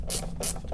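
A part is screwed in while a guitar is built, giving three quick ratcheting clicks in a steady rhythm, close and fairly quiet, with no talk.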